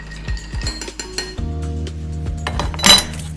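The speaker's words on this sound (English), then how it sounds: "Next, just gonna give it a wee bit of a stir, just like the first time." A spoon stirs a martini made with dry vermouth in a glass, giving close, bright clinks and tinkling scrapes of metal against glass and ice that keep going for a few seconds, with no talk.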